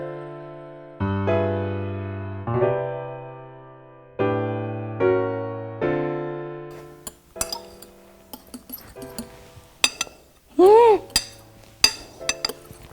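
Mixing soufflé pancake batter in a bowl, with a run of bright ringing clinks of utensil on bowl at first, then scattered clicks, scrapes and knocks, up close.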